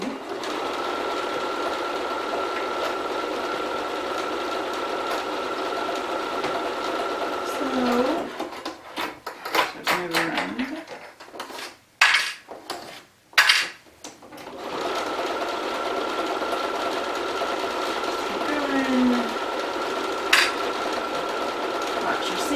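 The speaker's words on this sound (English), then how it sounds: "Just let your machine guide it through" A domestic sewing machine stitches a seam on a Kismet garment, a steady whirring hum that stops partway for a stretch of handling noises and voices, then starts running again.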